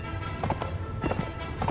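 Horse hooves clip-clop in the medieval combat game Mount & Blade, a few quick, moderately loud steps over a steady background drone.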